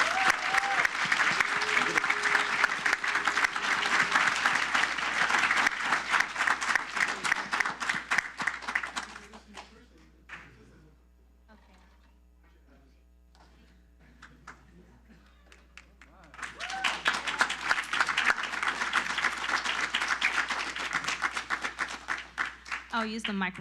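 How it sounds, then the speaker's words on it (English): Applause fills a city council meeting chamber, a dense sustained round that fades into a quiet lull with faint sounds, then swells again into a second strong burst of clapping. "Let's give a round of applause."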